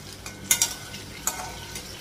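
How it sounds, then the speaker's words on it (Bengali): Pointed gourd (potol) slices fry in a pan, a soft sizzle broken by two quick metallic stirring clinks early on and one more near the end, close by with no speech. "আর পটল ভাজাটা বসিয়ে দিয়েছি একদিকে"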